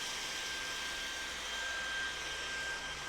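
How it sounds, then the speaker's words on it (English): A Levoit pet vacuum cleaner runs on its max setting, giving a steady, fairly faint whooshing hum with a thin high whine held throughout and no voices. "We're gonna go ahead and move over to the Levoit and do another vacuuming test."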